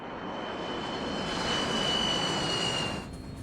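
An airplane in a sudden steep dive, a loud roaring engine rush that swells and climbs in pitch before cutting away sharply near the end.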